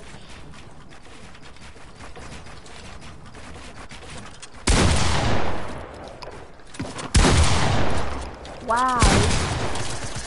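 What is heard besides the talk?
automatic gunfire in a video game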